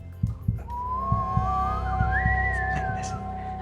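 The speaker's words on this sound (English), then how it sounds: "let's whistle now to see if there are any ghosts among us" A person whistles a single rising, wavering tone that climbs and then dips slightly, clear and close, over a low background hum with a few soft taps.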